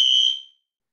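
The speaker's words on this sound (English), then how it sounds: "I think there's a fire alarm going off at campus" A campus fire alarm sounds as a single loud, steady electronic tone that cuts off sharply after about half a second, heard alone with no talking.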